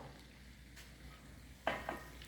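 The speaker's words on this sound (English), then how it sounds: "I'm going to stir that in" A spoon stirs a sulforaphane-rich ingredient into a meal in a pan, giving a couple of faint scraping knocks against a quiet background with no talking.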